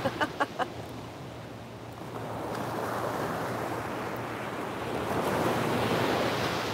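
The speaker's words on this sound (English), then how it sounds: "here comes the wind" Gusty wind blowing outdoors on a mild, chilly-feeling day, a broad rushing roar that swells and builds steadily toward the end, with a few brief taps at the start.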